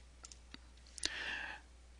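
A computer keyboard key is pressed: a few light, sparse clicks, then a sharper tap followed by a brief hiss, all close and quiet in a still room.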